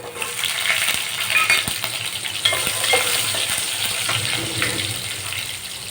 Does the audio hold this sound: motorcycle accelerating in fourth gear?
no